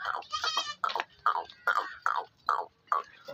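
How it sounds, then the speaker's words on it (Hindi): Goats bleat on a farm in Karachi, a close series of short, nasal, wavering cries repeating at a steady pace about every half second, with no talking. "ये फार्म की बकरियाँ साफ सुथरी"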